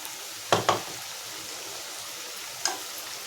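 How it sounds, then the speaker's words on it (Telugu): Mutton with spices frying in a pan, a soft steady sizzle with a few sharp stirring clatters near the start and one more toward the end. "ఇవన్నీ వేసుకుని మళ్ళీ సిమ్లో పెట్టుకుని వేపించుకోవాలి ఒక 10 నిమిషాలు"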